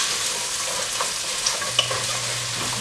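Diced onion sizzles steadily in a pan for homemade lentil soup, with soft spatula scrapes and stirs now and then, close and continuous, with no voices.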